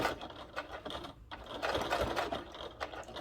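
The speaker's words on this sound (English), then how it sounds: "start with your machine, start a little bit further down from the top so that it doesn't grab and bunch your fabric. And your machine will just backstitch naturally." A sewing machine backstitching fabric for a billfold wallet, a steady close-up mechanical whirr with rhythmic clattering and a short pause partway through, with no talking.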